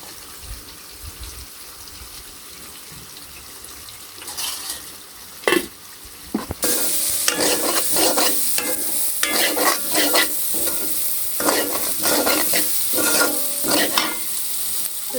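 Soybean chunks stir-fried in a pan in a village kitchen: quiet at first, then steady loud sizzling from about seven seconds, broken by repeated scraping stirs of a utensil, with no talking.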